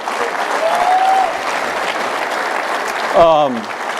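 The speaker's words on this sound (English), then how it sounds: "You should be applauded." An audience at a track and field convention presentation applauds steadily, a dense wash of clapping with a few whistles and voices mixed in.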